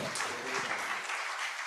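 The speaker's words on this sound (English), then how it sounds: "Can we give her a quick round of applause" A summit audience applauds in a steady, dense wash of clapping that fills the short moment and stays fairly distant.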